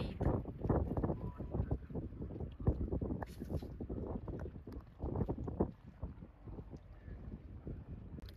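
A boat engine starts and runs at an anchorage in Greece, a steady low rumble with wind buffeting the microphone throughout.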